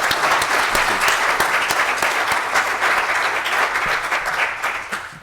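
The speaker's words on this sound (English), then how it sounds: "can we give them a big round of applause?" A seminar audience gives a sustained round of applause, dense steady clapping filling the room from start to finish before tapering slightly at the end.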